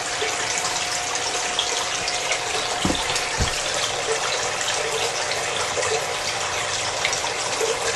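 Steady broadband rush of water from an aquarium filter pump aerating the tank, a continuous close bubbling and gushing wash that holds at even loudness throughout, with no speech.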